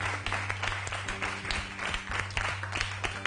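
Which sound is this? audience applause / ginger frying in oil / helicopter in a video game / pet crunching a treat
audience applause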